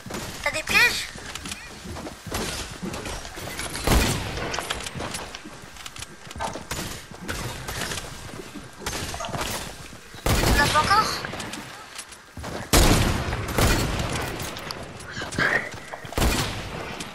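Gunfire in the video game Fortnite: scattered bursts and single shots, some sharp and loud, others duller, across a busy stretch of play with players talking over much of it.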